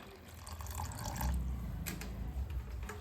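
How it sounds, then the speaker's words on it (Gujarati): Water poured onto washed sabudana in a bowl to soak it, a steady close splashing and trickling that swells slightly midway and runs on continuously. "હવે એમાં પાણી રેડીને તેને પલાળવા મૂકી દઈશું"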